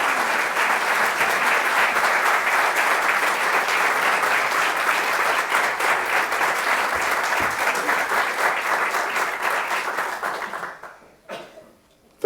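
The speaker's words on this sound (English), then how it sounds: "I always think the people who applaud before they hear a speaker have great faith or tolerance" An audience at Notre Dame applauding Archbishop Tobin as he is welcomed to speak, loud sustained clapping for about ten seconds, then quickly fading to a few scattered claps.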